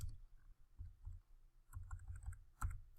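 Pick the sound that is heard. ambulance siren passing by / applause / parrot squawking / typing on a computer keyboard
typing on a computer keyboard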